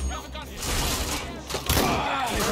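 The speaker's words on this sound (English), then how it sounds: "this is when we get out the shotgun" Shotgun blasts in the Watch Dogs: Legion video game, heavy booming bursts layered with crashing impacts in a loud, dense mix, with a voice talking over part of it.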